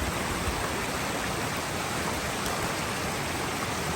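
A river rushes steadily at a trail crossing in the Kings Canyon backcountry along the Rae Lakes Loop, a loud, close, unbroken wash of water with no voices.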